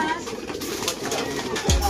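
Pigeons coo softly against a noisy background, with a person talking over the birds during the short stretch.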